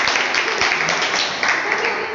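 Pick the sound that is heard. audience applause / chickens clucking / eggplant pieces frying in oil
audience applause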